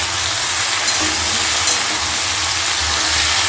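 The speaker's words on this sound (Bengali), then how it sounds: "এভাবে বেশ কিছুক্ষণ সবজিটাকে ভালো করে ভেজে নিতে হবে, সাথে ডাঁটাটাও।" Malabar spinach stalks and vegetables with turmeric and salt frying in a pan, a loud dense sizzle that runs unbroken throughout with a low rumble beneath and a few faint stirring clicks.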